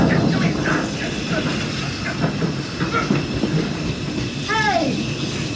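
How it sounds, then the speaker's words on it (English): The Walt Disney World Railroad train rolls along the rails with a steady rumbling clatter, loud and close, and a voice speaks briefly near the end. "That's not a snake. It's a train."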